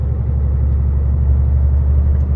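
A vehicle engine in eighth gear labours steadily up a winding mountain road, a loud constant low drone with no change in pitch or level.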